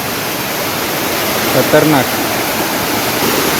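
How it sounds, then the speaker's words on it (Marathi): A waterfall on a stream near a village pours out a steady, loud roar that fills the whole stretch without a break. A voice briefly speaks over it at night. "पुढे धबधबा कसला आहे"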